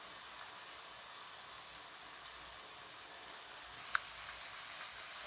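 Mutton curry with potatoes being stir-fried in a pan, a soft, steady sizzle with a faint crackle that holds at low level throughout, with no voices over it.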